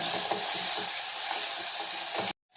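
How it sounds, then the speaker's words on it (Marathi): Ground masala paste for dhaba-style chana masala sautés in hot oil over cumin, giving a dense, steady sizzle with light stirring scrapes that runs close and loud, then cuts off abruptly near the end. "हे बघा, हे वाटण आता असं परतून घ्यायचं"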